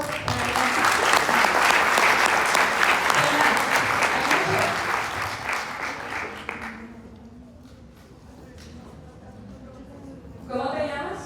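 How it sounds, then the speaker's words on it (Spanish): Conference audience at an innovation event applauds loudly and continuously for about seven seconds, then fades to quiet murmuring before a voice begins speaking. "Un aplauso."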